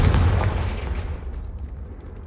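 A Confringo fire spell in Hogwarts Legacy blasts with a heavy, booming burst that rumbles low and decays over about two seconds, loud and close.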